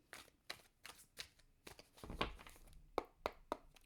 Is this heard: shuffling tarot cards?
yes